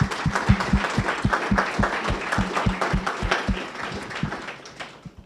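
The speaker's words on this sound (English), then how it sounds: "Let's give them a round of applause." A roomful of people applauds school board members at a South Dakota education presentation, a steady, fairly rhythmic run of claps close by that gradually thins and fades toward the end.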